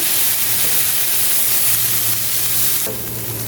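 Onion sizzles lightly in a hot pan, a steady close frying hiss that drops slightly in level near the end, with no talk.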